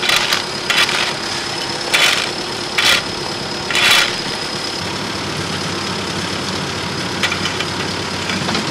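Road paving machinery runs outdoors during asphalting of a central village road, its engine idling in a steady loud rumble, with several brief bursts of broadband noise early on.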